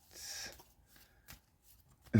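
A deck of cards is shuffled close by, a short quiet riffle followed by faint handling taps and one louder thump at the end, with no talking.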